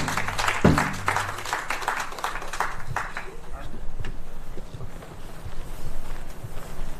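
Applause from an audience gathered at an outdoor Native American totem pole journey event in the Black Hills, a broad wash of clapping that peaks early then thins, mixed with crowd murmur and some talk.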